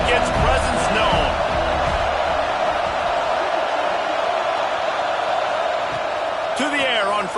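Stadium crowd noise from a college football video game, Clemson versus Florida, a loud, sustained roar with brief chirps and whistles at the start and end, with a commentator talking over it.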